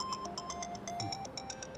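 A phone ringtone sounds for an incoming call, a quick repeating electronic chirp pattern at low to moderate level with no talking.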